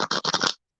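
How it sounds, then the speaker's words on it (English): A deck of playing cards gets shuffled in four quick, crisp riffling bursts close by, then stops abruptly into silence. "One more shuffle for Granny."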